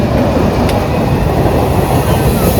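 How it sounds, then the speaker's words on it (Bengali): A train rolls past nearby with a loud, steady, broadband rumble that holds at an even level throughout, with no voices heard over it. "বাবা ট্রেনটা কি চলে যাচ্ছে গো, বিশাল চলে যাচ্ছে না"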